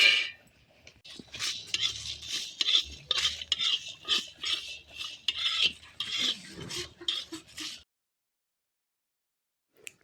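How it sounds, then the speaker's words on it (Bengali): Whole spices being dry-roasted in a dry wok and stirred, giving repeated scraping and rattling strokes in uneven bursts for about eight seconds before falling silent. "এই গোটা মশলাগুলো শুকনো কড়াইয়ে ভেজে নেব।"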